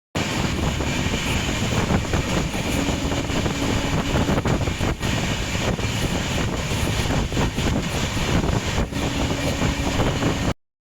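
The Uttar Banga Express 13147 runs between Sealdah and New Jalpaiguri, heard from inside as a loud, continuous roar and rumble of the moving passenger train, steady and unbroken with no talk.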